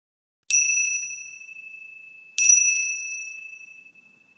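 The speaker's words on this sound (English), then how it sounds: "So the chimes signal the end of the practice." Two clear, bright chime strikes used to close a meditation practice, each ringing out with a long sustaining tone and slow decay, the second struck about two seconds after the first, in a quiet room with no talk.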